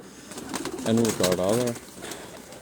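A White Gold breed pigeon coos nearby, a short rolling, throaty call rising and falling over about a second, with someone speaking softly in the background.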